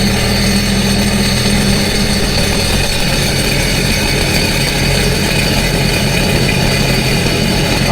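A Sea-Doo jet ski engine idles loudly and continuously, a steady constant low mechanical rumble with no talking.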